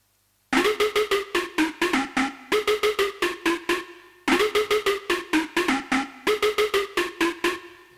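A big room house pluck melody with bright, punchy synth plucks firing in rapid rhythmic bursts. The phrase repeats twice, loud and up front, with no talking over it.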